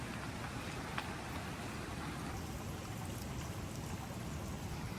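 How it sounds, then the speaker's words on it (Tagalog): A steady, soft rush of water poured into a plant pot, running and splashing close by, continuous and unbroken throughout, with no voices. "Palagyan natin ng tubig."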